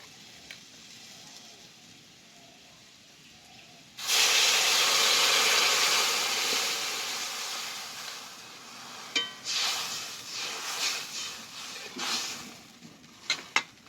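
Water poured into a hot pan of fried potatoes bursts into a loud, steady steamy hiss that slowly fades, followed by irregular sputters and pops of sizzling.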